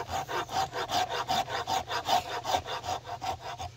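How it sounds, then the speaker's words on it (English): A rasp is worked over wood to rough out a bow, making a close, rhythmic rasping with about a dozen steady back-and-forth strokes and no speech. "we're gonna start with rasping this here"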